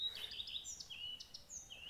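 Spring migrant songbirds in woodland give faint, distant high whistled notes and chirps in short, sliding phrases over a quiet background.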